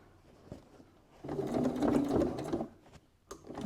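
A sewing machine stitches a fabric seam on a cosmetic bag in a short whirring burst of about a second, quiet handling noises and light clicks before and after.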